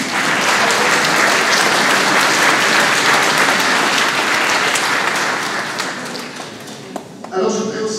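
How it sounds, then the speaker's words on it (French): A church congregation applauds at a village church's anniversary celebration, sustained dense clapping that fills the room for about seven seconds before fading as a voice begins speaking. "Vous pouvez vous applaudir."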